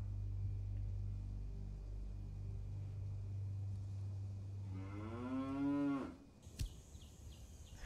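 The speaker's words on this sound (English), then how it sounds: "those cows you heard there are part of the actual game I'm in right now" A cow's long, drawn-out moo rises out of a low, steady rumble in the Railway Empire train game, followed by a sharp clank and faint ambient tones.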